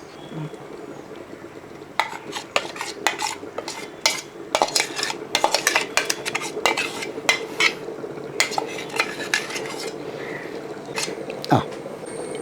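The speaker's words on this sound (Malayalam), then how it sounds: "നമ്മൾ നേരത്തെ തേങ്ങ വറുത്ത് അരച്ച് വെച്ചിരിക്കുന്ന അരപ്പൊടിൻ്റെ കൂട്ടത്തിൽ അങ്ങോട്ട് ചേർക്കുകയാണ്" A spoon scrapes and clatters rhythmically against a pot while meat is stirred with ground roasted coconut paste for Kerala-style irachi kappa, close and busy over a low simmering hiss.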